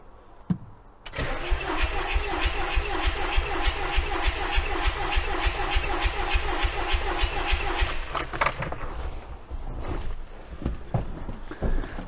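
A VW T3 with a TDI diesel engine cranks over steadily on the starter for about seven seconds during a compression test, a fast, even chugging rhythm that stops abruptly, followed by quieter handling noise.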